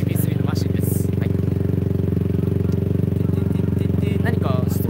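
A GP3 road-racing motorcycle engine runs loudly and steadily in the paddock at an All Japan Road Race Championship round at Okayama, with a constant humming drone and faint background voices.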